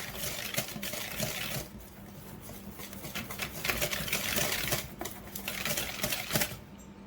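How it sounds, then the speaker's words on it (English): Flour, baking powder and salt whisked together in a bowl for a cherry peach cobbler, a steady close rapid scratchy clicking of whisk strokes running continuously with no voices. "2 teaspoons of baking powder, 1/4 teaspoon of salt. We're going to whisk that together."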